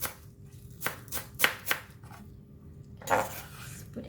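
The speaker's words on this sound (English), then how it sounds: "the Chinese parsley, we're going to cut it in a very small pieces" A knife chops Chinese parsley into small pieces on a board for a Thai corn salad, giving a quick burst of crisp taps, a short pause, then a few more cuts close up.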